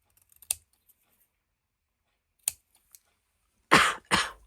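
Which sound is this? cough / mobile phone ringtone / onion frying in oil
cough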